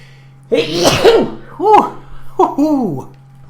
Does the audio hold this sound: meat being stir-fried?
no